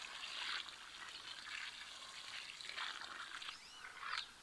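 Water from a plant's soaking container being poured onto a garden plant to give it a thorough drink, a steady, soft trickling splash that runs on without a break and swells briefly near the end.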